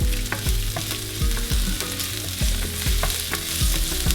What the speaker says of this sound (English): You see, that's already frying.